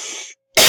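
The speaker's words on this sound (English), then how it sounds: "Hope I didn't scare you with that cough" A single sharp cough bursts out loud and close, following a brief hiss-like breath sound and a moment of silence.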